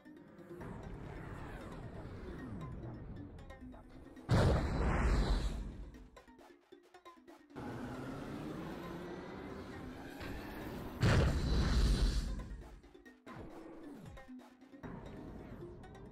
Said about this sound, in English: the explosion sound effect is not great